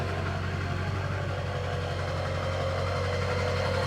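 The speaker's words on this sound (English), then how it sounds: "See if you can hear the lift pump." A 2003 Chevy Silverado 2500HD diesel truck idles with its lift pump running, a steady low, throbbing engine hum that stays even and continuous, with no talking.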